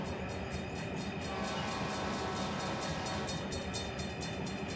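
A train rolls past on the tracks in the Run 8 train simulator, approaching a level crossing, a steady dense rumble of wheels and cars that stays loud and continuous throughout, with no voices.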